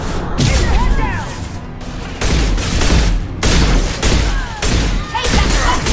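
Heavy gunfire during a Mass Effect 2 firefight: loud, near, continuous volleys and crackling bursts with booming impacts, broken by brief lulls, and a voice shouting through the shooting.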